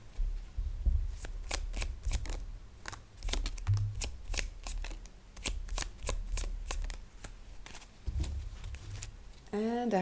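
A deck of tarot cards being shuffled close up in a quiet room, with repeated quick riffling bursts and soft taps, and a voice speaking at times.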